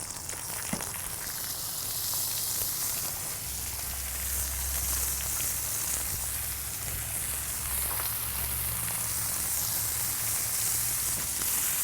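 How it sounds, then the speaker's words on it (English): Bacon strips and burger patties sizzle loudly on a hot flat grill, a continuous close crackling hiss with a low hum underneath and no speech. "We're just gonna let this bacon get nice and crispy while we get the rest of the patties and everything cooked up."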